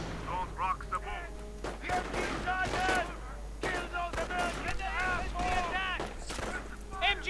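Gunfire crackles through a WWII strategy game battle, repeated shots and bursts under continuous commentary from someone talking throughout, the shooting fairly faint beneath his voice.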